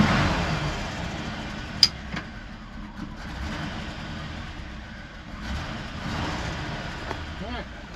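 A 1977 Squarebody pickup truck's engine runs steadily after starting, a rough continuous idle with a few sharp clicks and faint revving, loud and close throughout.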